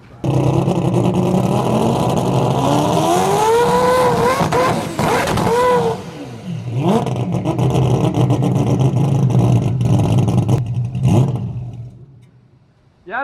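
A Mazda four-rotor race car engine on a track screams loudly, rising through revs with sharp pitch sweeps and shifts and a brief tire squeal, before dropping away near the end.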